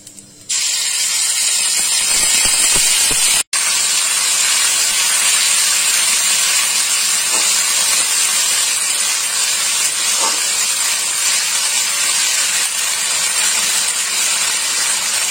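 Ginger paste and spices hit a hot pan and erupt into a loud, continuous sizzling hiss that holds steady and close for the whole stretch, with a brief cut near the start.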